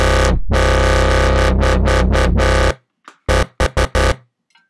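A thick distorted dubstep bass synth made in Logic Pro 9 pulses in a rapid wobbling rhythm for a few seconds, followed by several short choppy bass stabs, loud and upfront.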